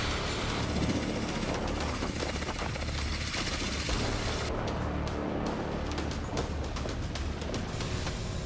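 Russian attack helicopters firing missiles at armored vehicles in a wooded area of Kursk, a dense continuous roar of rotor and engine noise with a run of sharp rapid cracks toward the end.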